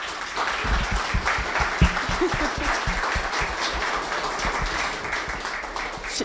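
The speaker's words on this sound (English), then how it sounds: "But first of all, I just want to give Diane a big round of applause for making this happen." A crowd at a company open house presentation applauds steadily, a dense wash of many hands clapping at once that carries on evenly for several seconds.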